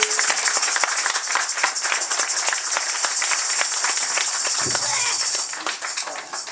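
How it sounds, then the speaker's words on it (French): An audience claps for a participant being introduced at a French event, a dense run of applause that holds steady and then thins out toward the end, with a voice cutting in briefly. "un petit peu d'applaudissements s'il vous plaît"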